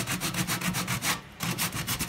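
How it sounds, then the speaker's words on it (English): Sandpaper rubbed rhythmically over a raised stencilled wreath on a faux rustic patina finish, a steady run of close scratchy strokes with one brief pause midway. "I'm also using the sandpaper to scrub out, distress a bit"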